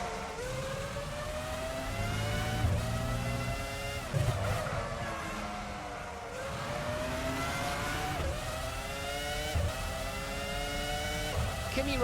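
Formula One cars in Formula One 05 scream past the finish line, their engines rising and falling in repeated sweeping passes. A voice speaks over the racing noise.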